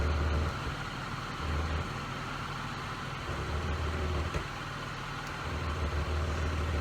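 A Pontiac Grand Prix with an idle air control problem idles with a low, steady engine rumble. It resonates under the car and throbs in slow, regular pulses, fairly faint and with no voices.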